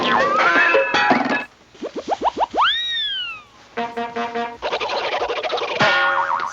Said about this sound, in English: supervised by Granny Foley, an old woman who apparently can only communicate in cheap cartoon library sound effects.